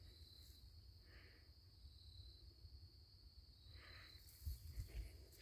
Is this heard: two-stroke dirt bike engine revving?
no